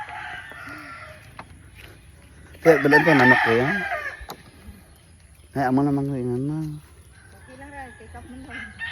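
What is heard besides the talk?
chicken clucking and crowing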